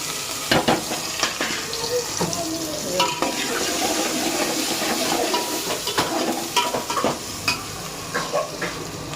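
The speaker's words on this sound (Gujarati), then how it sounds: "હવે આપણો અંદર વઘાર કરી દઉં છું બરાબર" Spices for a tempering crackle and sizzle in hot oil in a pan, a loud, continuous frying hiss broken by repeated sharp clinks and scrapes of stirring close by.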